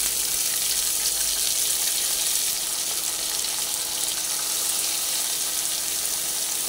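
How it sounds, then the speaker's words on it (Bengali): Chopped onions fry in hot oil in a wok, a dense continuous sizzle with a watery bubbling hiss that stays loud and even from start to finish, with no talking. "সেই পেঁয়াজগুলোকে তেলের মধ্যে দিয়ে এবারে ভেজে নিচ্ছি।"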